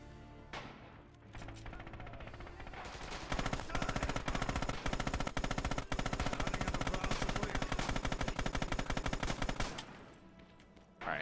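A machine gun in the video game Rising Storm Red Orchestra 2 fires one long, sustained burst of rapid, loud shots lasting several seconds, with quieter game ambience before and after.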